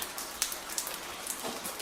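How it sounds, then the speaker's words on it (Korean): Steady rain patters on a surface, with a dense wash of drops and a few sharper individual hits standing out, at moderate level with no voices. "오늘도 비가 오는구나."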